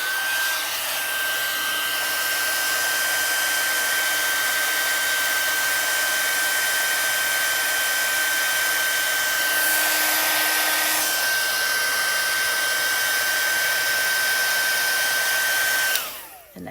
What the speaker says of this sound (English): as I add my heat gun to this, it's going to puff up